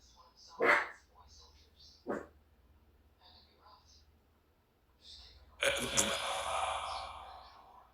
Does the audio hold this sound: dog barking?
yes